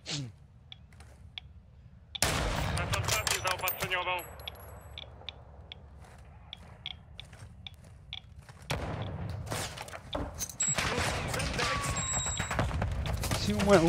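Rapid volleys of gunfire in Call of Duty: Modern Warfare II crack loudly and close, bursts coming in clusters over a constant low rumble and scattered clicking effects.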